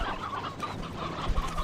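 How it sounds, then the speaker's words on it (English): Chickens cluck in the video game Slime Rancher, a steady layered murmur of many birds at moderate level with no talking. "God, there's a lot of chickens in here."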